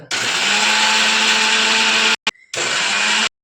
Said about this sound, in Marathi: मिक्सरमध्ये बारीक करून घेऊया